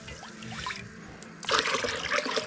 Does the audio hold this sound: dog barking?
no